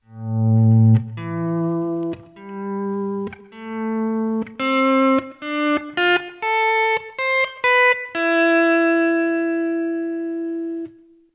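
Notes played through a TC Electronic 2290 delay with reversed envelope dynamic volume modulation swell in a sequence of distinct tones, some long and some short, ending on a sustained note, with no talk.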